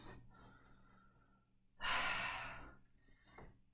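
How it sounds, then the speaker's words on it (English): Deep breathing during a yoga flow: one loud, breathy exhale swells and fades over about a second, preceded by quieter breath and faint room hum, with no talking. "Last round of breath."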